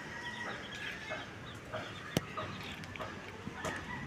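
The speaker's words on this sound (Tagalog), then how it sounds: "Nalimlim na yata ang manok din yun." Domestic chickens clucking around a brooding hen in a laying flock, with a few short, fairly close clucks and calls over a steady farmyard background and one sharp click partway through.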